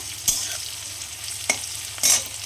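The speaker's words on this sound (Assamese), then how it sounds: "পিঁয়াজখিনি ৰঙচীয়া হ'ল, পিচি থোৱা সৰিয়হখিনি আৰু পোস্তখিনি এতিয়া মই অলপ ভাজিম।" Onions sizzle in hot oil in a pan for an Assamese fish curry, a steady frying hiss broken by three sharp stirring scrapes.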